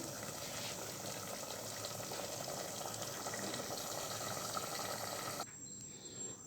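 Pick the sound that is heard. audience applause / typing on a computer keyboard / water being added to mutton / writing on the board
water being added to mutton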